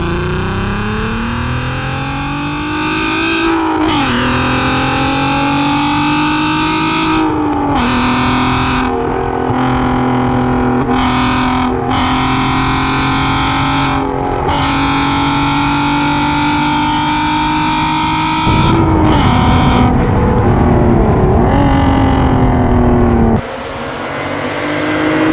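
A VW Golf R32 driving and braking, its engine droning steadily with rising and falling revs and a few sharp drops in tone, heard loud and close from inside the car with no talk.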